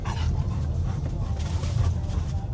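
A dog whines and pants close up, steady breathy panting with high whimpers throughout, loud and continuous.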